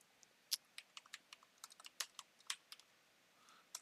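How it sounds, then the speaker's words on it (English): Keys clatter on a computer keyboard in a quiet room, a run of sharp, irregular taps and clicks close to the microphone, with a few heavier strokes standing out and no voices. "I'm just typing it in here."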